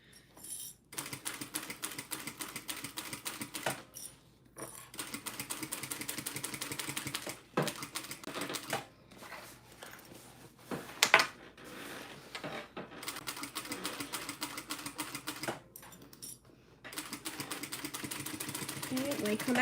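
A sewing machine stitches a quilted Empress tote in rapid, steady bursts separated by short pauses, with soft clicks between runs and a voice speaking now and then.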